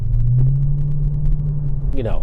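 A Lexus GS430 with its muffler deleted idles in a deep, steady low rumble close by, with a brief rise in pitch near the end as it revs slightly.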